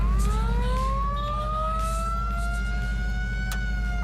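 A vehicle siren wails in a slow rising tone, loud and close over a heavy low engine rumble, holding steady throughout with no talking.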